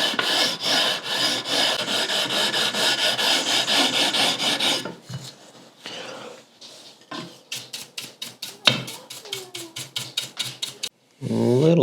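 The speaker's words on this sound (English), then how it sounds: "I want to put a little bit of a chamfer onto the binding too" A file or rasp chamfers the binding along a guitar fretboard edge with rhythmic back-and-forth strokes, a steady dense run of rasping followed by sparser, sharper individual strokes, close and clear, no one talking.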